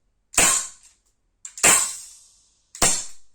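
Three sharp, loud pops from a Tokarev Borner TT-X 4.5mm BB pistol, fired singly about a second apart, each with a short ringing tail and nothing in between.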